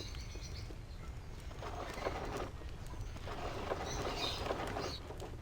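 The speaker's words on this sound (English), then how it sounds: "I hear a bird." Small bird chirps sound faintly and intermittently in Baldur's Gate 2, a few short high calls scattered over a quiet game ambience with soft background patter.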